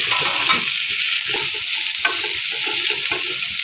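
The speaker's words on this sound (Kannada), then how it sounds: "ಎಣ್ಣೆ ಒಳಗೆ ಅದು ಐವತ್ತು ಪರ್ಸೆಂಟ್ ರೋಸ್ಟ್ ಮಾಡ್ಕೋಬೇಕು ನಾವು" Carrots and other vegetables roast in oil for masale chitranna, a loud, steady sizzle with rhythmic scraping of a spatula stirring through the pan, no voices.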